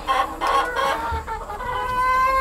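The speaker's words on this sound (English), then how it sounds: "So these are the laying chickens." Several laying hens cluck and squawk close by in overlapping bursts, with a longer drawn-out call near the end.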